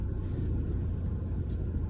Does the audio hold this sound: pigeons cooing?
no